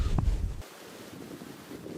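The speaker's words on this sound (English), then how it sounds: "bit windy" Gusting wind buffets the microphone outdoors in snowy Scottish countryside, a loud low rumble in the first half-second that then drops to a softer steady whoosh.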